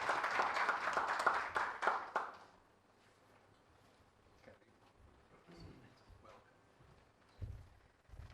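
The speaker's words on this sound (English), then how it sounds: "Can we put a round of applause as we invite Madam CS" A convention crowd at the Kenya Diaspora Homecoming Convention applauds, a thick burst of clapping for about two seconds that quickly dies away into a quiet room with scattered small noises.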